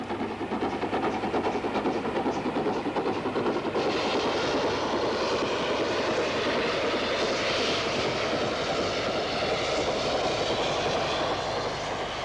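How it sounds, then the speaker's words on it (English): An 8F steam locomotive slogging uphill near Colwyn Bay towards Penmaenros Tunnel with a heavy freight train, a loud, steady, dense rumbling roar of engine and rolling wagons that continues throughout. "an 8F slogs uphill towards Penmaenros Tunnel with a heavy freight train"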